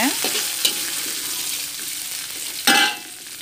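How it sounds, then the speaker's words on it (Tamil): Onions, curry leaves and garlic sizzle and crackle in hot oil while being stir-fried, a continuous hiss broken by a couple of sharper spatters and a louder burst near the end. "இப்போ தாளிப்பு ஜாமனை போட்டுருங்க கருவேப்பிலை பூண்டு எல்லாத்தையும் போட்டுருங்க"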